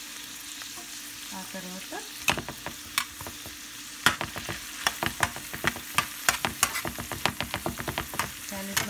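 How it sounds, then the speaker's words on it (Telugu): Onion rings and mixed vegetables frying in a pan, with a steady sizzle under repeated sharp scrapes and clacks of a spatula stirring, growing busier midway; a brief word of speech near the start. "ఆనియన్స్, ఇది ఆనియన్ రింగ్స్, అన్నీ ఒక్కొక్కటిగా అన్ని కూరగాయలు వేసి వేయించేసుకోండి"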